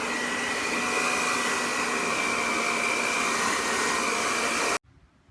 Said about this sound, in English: So I'm gonna heat this up a little bit more and then keep going.